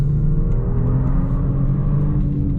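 Genesis G70 3.3T AWD with its twin-turbo engine and valved exhaust, a steady loud droning rumble from the cabin through downshifts, continuous with no talk.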